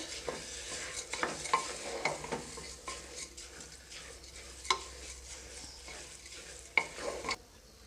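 Rice being stirred with masala in a pan for masala rice, quiet sizzling beneath irregular scraping and tapping of a spoon against the pan, close and fairly soft, without speech.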